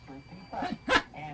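A voice imitates a dog, giving a couple of short barking yelps close up, with a brief pause between them.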